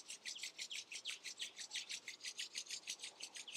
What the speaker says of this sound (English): Rub the palms together, create some energy